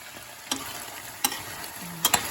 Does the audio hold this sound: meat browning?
yes